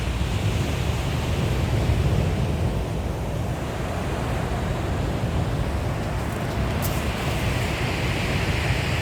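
Sea waves washing onto a beach, a steady, loud roar of surf and wind buffeting the microphone, continuous with no voices.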